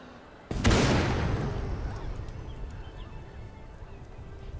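Gunfire in the horror video game The Black Masses: one sudden loud blast that rings out and decays slowly over several seconds, with a low rumbling tail and no talking.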